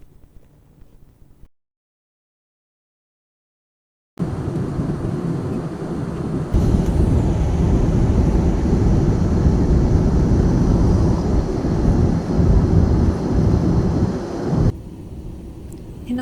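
Steady jet-cabin roar of an airliner in flight near Istanbul at night, a loud broadband rush that swells after a brief dropout and holds level before easing off.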